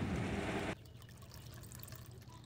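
Milk mixed with yogurt pours steadily into a pot for traditional Bogra sweet yogurt, a dense liquid rush lasting under a second before stopping abruptly into quiet room noise.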